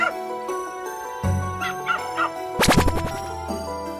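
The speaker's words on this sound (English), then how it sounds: "dog" A dog gives a few short yips and whimpers, then a louder bark burst near the end, close and clear over a steady musical backing.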